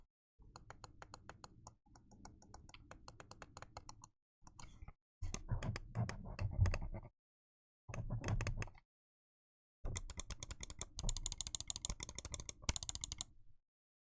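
A Razer Viper V3 Hyperspeed gaming mouse clicks rapidly in several close, crisp bursts separated by brief pauses, sharp and light with no voices over it.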